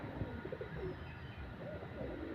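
A Madras pigeon gives faint, low cooing notes in short bursts against a quiet background hum.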